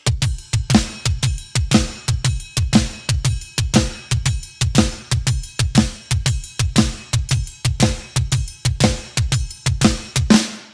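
A drum kit plays a beat slowly, with kick and snare added in a steady, repeating pattern of sharp hits and ringing cymbals, loud and close with no talking.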